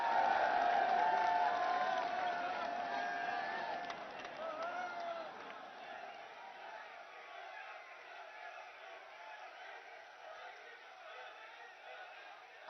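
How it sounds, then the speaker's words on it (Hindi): An audience at a formal public event with the Prime Minister and state dignitaries claps loudly together, a dense near wash of applause that slowly thins and fades over several seconds. "जोरदार तालियां।"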